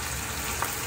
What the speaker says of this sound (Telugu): మ్యారినేట్ చేసుకున్న చికెన్ని మనం డీప్ ఫ్రై చేసుకోవాలి